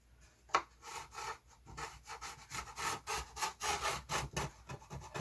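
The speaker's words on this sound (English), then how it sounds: "Scrape out any globs of epoxy" The corner of a metal square scrapes dried epoxy globs from a wooden outrigger kit lip, making quiet, close, rhythmic rasping strokes that repeat steadily and grow slightly louder.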